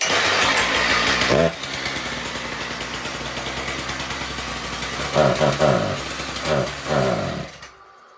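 A Husqvarna K760 cut-off saw engine fires after a pull and runs loud and close with a buzzing two-stroke drone, giving a few brief rev surges before stopping, and it never climbs to high revs.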